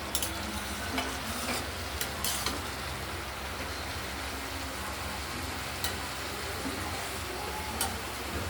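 Chopped ash gourd sizzles in a pan while being stirred, a dense continuous frying hiss with several sharp clicks and taps from the utensil; no voices.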